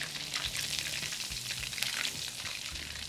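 Chicken pieces fry in hot oil for a spicy Chinese dish, a dense, steady crackling sizzle close up with occasional low knocks from the pan and no talking.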